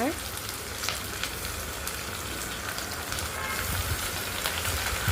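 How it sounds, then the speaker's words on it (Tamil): Ginger garlic paste sautés in a pan with a steady close sizzle and crackle, with occasional stirring scrapes and faint spatters over the bubbling oil. "நல்லா வதங்கட்டும். இஞ்சி பூண்டு பேஸ்ட்டுங்க."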